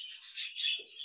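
Budgerigars at a brightly lit, clean budgie breeding facility give high, rapid chirps and warbles, a close and steady chatter with no speech.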